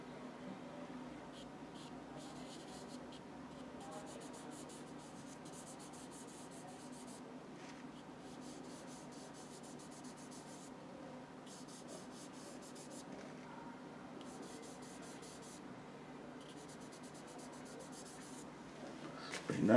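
A charcoal stick shades on paper in a sketch, giving a soft, steady scratchy rubbing up close, with quiet strokes that come in repeated bursts and no talking.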